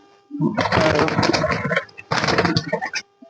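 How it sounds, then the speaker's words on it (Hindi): Two close, throaty bursts of pigeon cooing, the second shorter, separated by a brief pause. "ये कबूतर है"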